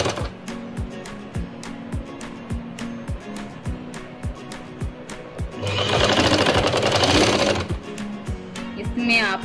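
A sewing machine runs steady, fast rhythmic stitching bursts while sewing an umbrella frock with zips on both sides, loud and close, with a brief harsher, denser stretch midway.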